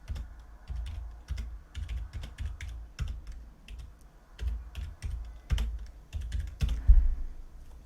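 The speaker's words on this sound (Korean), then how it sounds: "이렇게 키 입력 다 했고 엔터를 치면 몸무게로 넘어가죠." Keys clack on a computer keyboard while data is entered into an Excel spreadsheet. The taps come in quick irregular bursts with brief pauses and a few heavier keystrokes, close and fairly quiet, with no voice.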